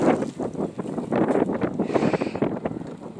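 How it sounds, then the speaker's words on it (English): Wind gusts buffeting a spring kitchen garden with raised beds, a steady rushing roar with pulsing surges across the whole stretch, close to the microphone. "Oh, windy. Wait for that gust."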